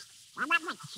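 A performer's Donald Duck voice, imitating a duck, gives a short burst of garbled, nasal quacking in an old radio comedy drama, close and clear over a quiet background.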